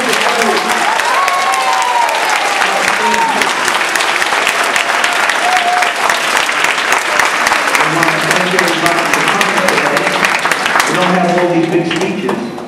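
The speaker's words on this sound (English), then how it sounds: "Let's give them a big round of applause." An audience at a school ceremony applauds the children with loud, dense clapping that holds steady for over twelve seconds. Voices and cheers are mixed into the applause.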